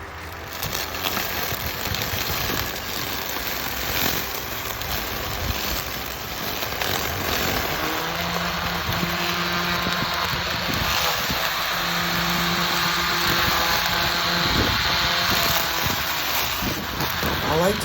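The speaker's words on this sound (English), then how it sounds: "the mower motor has some kind of torque sensor that whenever it hits the grass, there is some kind of burst that you can hear" An autonomous robotic lawn mower motor cutting grass, a steady mechanical whir with a fan-like hiss and sustained tonal hum that grows stronger midway, with short bursts as the blades bite into grass, close and continuous.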